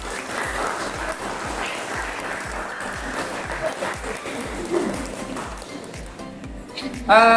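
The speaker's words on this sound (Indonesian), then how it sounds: "Tepuk tangan kelompok 2." Students in a chemistry teacher-training classroom clap for a presenting group, a continuous round of applause with a steady rhythmic beat underneath, ending as a voice begins.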